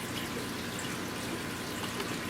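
Water pouring steadily as an aquarium tank is refilled during a large water change, a soft continuous rushing trickle, faint and unbroken.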